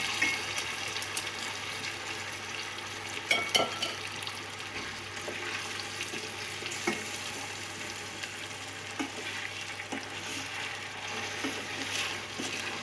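Rice is added to a pan of Uzbek pilaf with meat and carrots, then stirred as it fries, giving a steady soft sizzle with scattered scraping and clinking spoon strokes, moderately close and without speech.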